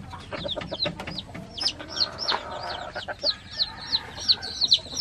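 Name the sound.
labuyo junglefowl chicks clucking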